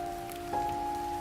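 Steady rain falling at night, a constant dense hiss with a faint droning tone running through it, heard alone without voices.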